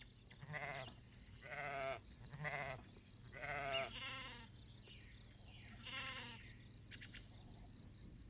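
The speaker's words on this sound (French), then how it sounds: "Dans ce troupeau, Maurice a regroupé des brebis qui sont les mamans moutons et leurs jeunes nés l'année passée" A flock of ewes and their yearling lambs bleats repeatedly outdoors, several overlapping wavering calls in quick succession over a steady background of birdsong.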